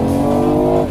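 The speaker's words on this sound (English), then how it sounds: "that 3-cylinder has a great engine note sound" BMW i8 three-cylinder engine note, an enhanced recorded sound, steady and loud with strong low harmonics throughout, tapering slightly at the end.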